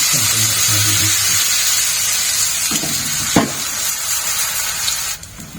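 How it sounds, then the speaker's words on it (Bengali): Pea-lentil paste for dhokar dalna sizzles as it is spooned into a hot frying pan of oil, a steady crackling fry with a sharp spattering burst midway and a drop in intensity near the end. "দেখো বন্ধুরা এখন দিয়ে দিচ্ছি তোমার এই ডালটা"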